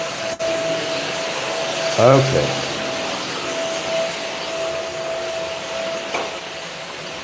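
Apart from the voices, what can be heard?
vacuum cleaner running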